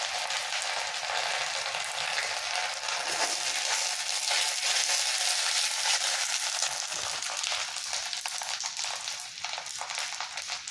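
Chopped ginger sizzles in hot oil in a pan while chili chicken fried rice is being cooked, a steady, loud broadband frying hiss that runs unbroken throughout, with no talking.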